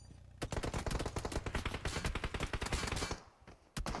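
A rapid burst of automatic gunfire from VS's weapon in the PUBG Mobile video game, dozens of loud, tightly spaced shots rattling for about three seconds, then a pause and one more shot.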